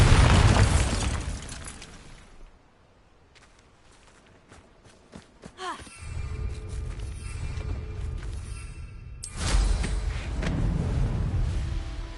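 In Hogwarts Legacy, the Bombarda spell detonates with a deep rumbling blast that swells and lingers as a heavy low roar, following a quieter stretch of small clicks and footsteps in the game.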